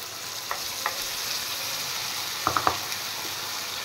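Spice paste of cumin, chili powder, onion, ginger and garlic fries in a pan with a steady close sizzle, broken by a few light taps of a stirring spoon.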